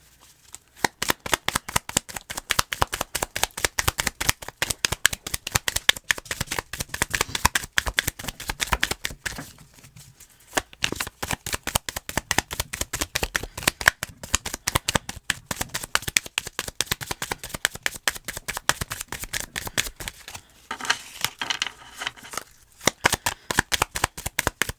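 Tarot cards are shuffled rapidly and continuously in close, crisp riffling bursts, with two brief pauses and no speech.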